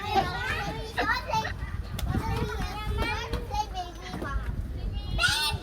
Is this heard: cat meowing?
no